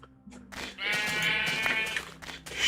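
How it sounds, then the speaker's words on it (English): A sheep in Minecraft bleats once, a close, clear, wavering bleat lasting about a second amid faint background sounds. "Ah, look at this sheep over here."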